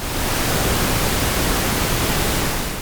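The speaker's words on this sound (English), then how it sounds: "The first section has pink noise on it" A steady, loud hiss of pink noise, broadband and unchanging, running without pause and fading slightly at the very end.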